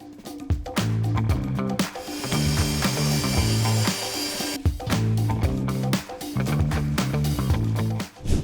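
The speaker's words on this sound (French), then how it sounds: "Nous scions maintenant cette fente et utilisons de nouveau la scie plongeante pour cela." A plunge saw cuts a slot into a wooden key board. The clip holds loud, close bursts of motor whine and rasping cutting, each lasting about a second or more, with a longer sustained pass in the middle and short pauses between cuts.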